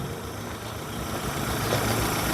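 A 2015 Hyundai i10 Sports engine idles steadily in a dense, continuous low rumble that grows slightly louder toward the end, with no one speaking.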